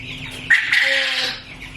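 Two-week-old Cornish Cross chickens cluck and peep close by over a low background hum. Their calls swell into a short, busy burst and then fade, and no one is talking.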